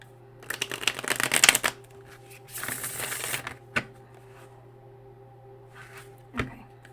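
Two quick bursts of small tarot cards being shuffled with a rapid riffling flutter, followed by a few soft taps as the deck is squared up.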